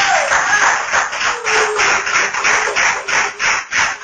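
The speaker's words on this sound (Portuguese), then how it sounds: "Senta batendo palmas para o Senhor Jesus." Church congregation clapping steadily for Jesus, a roughly even rhythm of massed handclaps filling the room, loud and continuous with no other sound on top.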